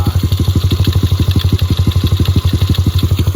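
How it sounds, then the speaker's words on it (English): An Apollo 110cc pit bike with its stock exhaust runs loud and close, its engine firing in a rapid, even stream of pulses with no one talking. "Sounds pretty good for a stock exhaust on a 110cc pit bike."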